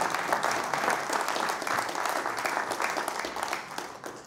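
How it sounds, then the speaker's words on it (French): Dense audience applause at a forestry conference, a steady wash of many hands clapping that holds for a few seconds before easing off slightly at the end. "Ces applaudissements, on va pouvoir les renouveler à Jean-François Doth"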